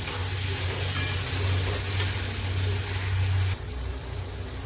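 Tomatoes frying in oil with onion and chutney, giving a dense, even sizzle close by that drops noticeably in loudness near the end, with a low hum underneath.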